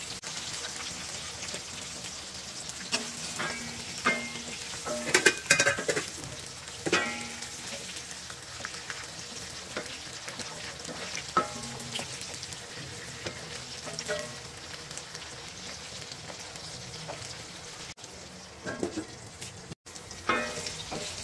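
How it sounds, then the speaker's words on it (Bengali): Food fries gently in a pan over low heat, giving a continuous soft crackle and patter like light rain, with intermittent scraping and stirring clatter, recorded close and without talking. "এটা জাল কমিয়ে ভাজতে হবে, পুড়ে যেন না যায় খেয়াল রাখতে হবে।"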